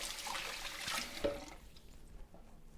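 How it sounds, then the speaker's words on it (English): Water from a kitchen tap runs as hands are washed, a soft splashing gush that tapers off toward the end, close and faint. "Wash my hands again."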